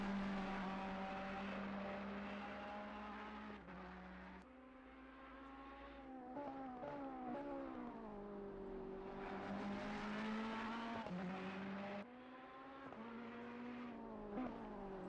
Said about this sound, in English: GT3 cars will take the field for official qualifying.